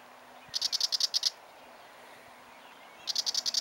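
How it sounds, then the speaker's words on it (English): A Willy Wagtail, a small black bird, chasing magpies out of a yard gives two quick bursts of rapid, rattling chatter, each a string of about eight sharp notes, with a quiet pause between them. "a vicious little black bird called a Willy Wagtail"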